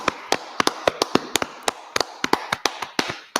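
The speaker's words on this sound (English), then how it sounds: "clap it up" A small group clapping at a Bible class: sharp, distinct hand claps, loud and close, irregular and spaced apart rather than blended into applause, with no talk.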